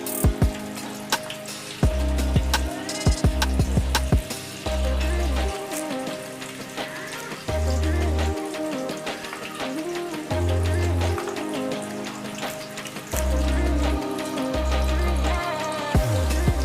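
Curry leaves sizzling in hot oil for homemade hair oil, a steady crackling fry with spattering pops, heard under a constant bed of background music.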